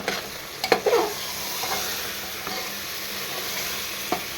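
Vegetables being sautéed with chilli powder and coriander powder in a pan, a steady sizzle with a few sharp clinks and scrapes of a stirring spoon.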